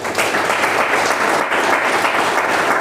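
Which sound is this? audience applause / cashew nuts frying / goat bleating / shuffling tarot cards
audience applause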